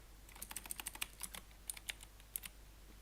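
Typing on a computer keyboard, a quiet, quick run of light key clicks in short irregular bursts against a faint background hum.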